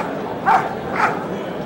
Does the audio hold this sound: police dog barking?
yes